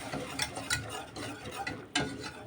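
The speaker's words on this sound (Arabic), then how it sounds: "هنشوح كده الدقيق مع السمنة لحد ما الدقيق ياخد كده لون صغير بسيط." Flour is stirred and fried with butter and oil in a pan: a spoon scrapes in steady, repeated strokes over a faint sizzle, close and fairly quiet, with no talking.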